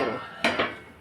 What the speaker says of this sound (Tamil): மூடி வச்சுருவோம்.